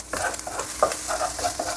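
Egg being scrambled and stirred in an oiled frying pan, a steady close sizzle broken by quick scraping strokes of a utensil against the pan.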